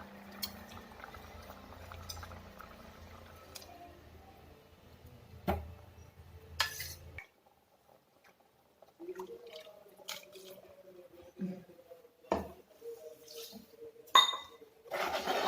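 Ground coconut paste goes into a simmering curry of taro and dried fish. A spoon clinks faintly against the pot, and soft wet plops and stirring sounds come in quiet, scattered bursts.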